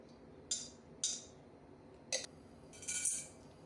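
A metal kadai set down on a home kitchen stove, giving a few faint, sharp clinks and taps spaced out over a quiet background.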